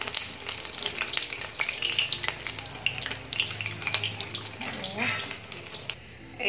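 Brinjal slices fry in a pan with a busy, crackling sizzle that is close and fairly loud throughout, broken by scraping turns and a short quieter gap near the end.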